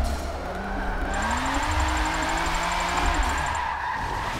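A racing car's engine in a drift build in Forza 7 drones steadily with a high turbo whine rising and falling over the motor, loud and continuous.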